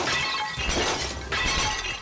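Plates shattering in Disney's Extreme Skate Adventure on PS2 while a skater smashes through them, two bright breaking-glass bursts close together, loud and crisp, with no talk.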